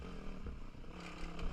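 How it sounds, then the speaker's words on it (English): A DRZ dirt bike engine drones steadily as the rider climbs a long, rocky hill, loud and close throughout with rough clattering and brief surges in revs. "I'm pretty much just holding onto the bike as it drags me up the hill."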